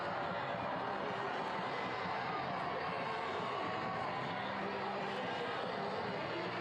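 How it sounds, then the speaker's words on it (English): A raucous home crowd cheers at a Huntsville City FC soccer match during a penalty shootout, a dense, steady roar of many voices heard from a distance, filling the whole stretch without a break. "raucous home crowd"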